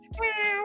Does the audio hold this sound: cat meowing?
yes